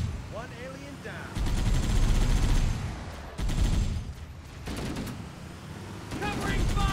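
Heavy automatic gunfire in Halo: Combat Evolved on PC, loud sustained bursts of rapid shots broken by brief pauses, with alien weapon chirps and a voice talking over the battle.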